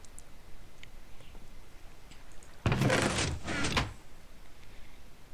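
A single front door in a video game opens with a brief creaking, scraping burst lasting about a second, loud against a quiet background.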